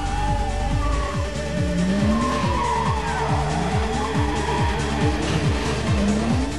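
A Mazda RX7 or Nissan Skyline R34 engine revs hard while its tires skid and squeal continuously as it loops in tight circles, loud and close throughout.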